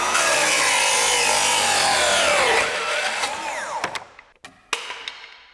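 A Festool HKC 55 track saw set to an 18.5-degree bevel cuts through wood with a loud, steady whine that bends in pitch, then winds down, followed by a few sharp knocks and clatters near the end.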